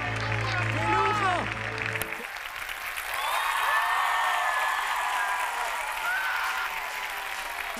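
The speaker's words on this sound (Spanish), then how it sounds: "¡Un aplauso enorme!" Theatre audience applauding and cheering during a live variety show at Teatro Ópera, rising after music cuts out and holding as a broad, moderately loud ovation under a host's voice.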